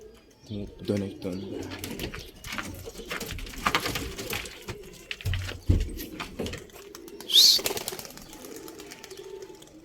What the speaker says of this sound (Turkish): Tepede kuş var.